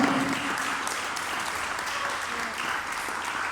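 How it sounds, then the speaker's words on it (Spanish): A church congregation at a Sunday service applauding steadily, a dense wash of clapping from many hands that holds at an even level for the whole stretch. "aplaudan al Señor, aplaudan la palabra."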